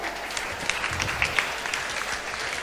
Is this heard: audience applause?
yes